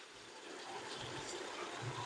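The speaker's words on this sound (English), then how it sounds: "I normally boil my kettle, so when it's ready, I just pour the boiling water so it just continues." Boiling water from a kettle poured into a pot of Jamaican curry goat, a steady gushing pour that runs throughout at moderate level with no talking.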